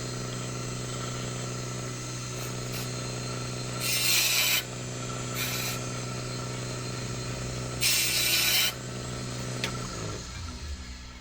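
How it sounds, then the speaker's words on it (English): A steady motor hums while the grinding wheel of an Edger skate sharpener is dressed, with several short bursts of harsh, loud abrasive grinding. "we're going to go ahead and dress the wheel here again"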